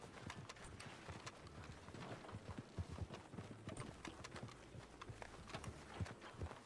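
Horse hooves clop steadily in RedM roleplay on the WildRP server, a quick run of close, sharp strikes continuing throughout over a low rumbling background.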